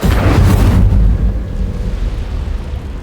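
In Hogwarts Legacy, an Incendio fire spell bursts in a loud, close blast that roars for about a second, then fades into a low rumbling crackle.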